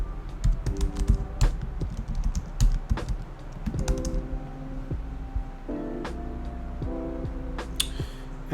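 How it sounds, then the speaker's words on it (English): Keys clatter in quick, uneven bursts as options are typed into a drop-down question on a computer keyboard, with steady background music underneath. "type in my options"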